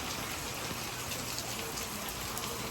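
Steady, dense tropical-storm rain pours down, a continuous broadband hiss with no gaps, loud and close, with no voices over it.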